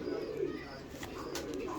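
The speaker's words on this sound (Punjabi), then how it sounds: "ਬਹੁਤ ਸ਼ਾਨਦਾਰ ਕਬੂਤਰ ਆ ਜੀ ਇਹ ਮਾਸ਼ਾਅੱਲਾ" Pigeon cooing close by, a soft, steady low murmur throughout with a few faint chirps above it and no talk.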